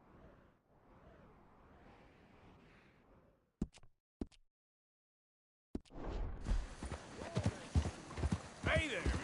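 Horse hooves clip-clop in a short run of sharp knocks after a stretch of soft talk, then a louder burst of hoofbeats and movement follows near the end, with no talk over them.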